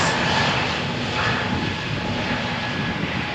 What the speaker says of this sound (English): EasyJet to Amsterdam is cleared for takeoff.